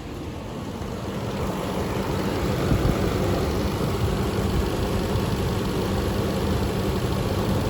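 A 2015 Nissan Titan pickup's engine runs steadily with a smooth, continuous low rumble at constant level, heard alone with no talking, likely from inside or near a garage.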